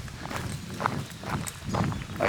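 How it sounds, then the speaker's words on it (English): Foals' hooves clip-clop on the ground at a distance, soft irregular thuds mixed into steady outdoor ambience along a hiking trail, with no talking. "I can hear the foals."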